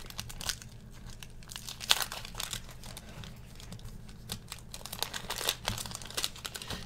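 Wax paper wrapper of a 1972 Topps football card pack being torn open, with crinkling and tearing in uneven bursts, close and fairly quiet, and no talk.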